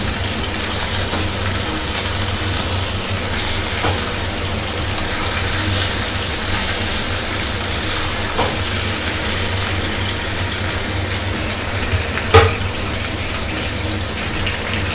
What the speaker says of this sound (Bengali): চিকেনটা আমি দিয়ে দিলাম, দিয়ে চিকেনটাকে এবার আমি নাড়াচাড়া করবো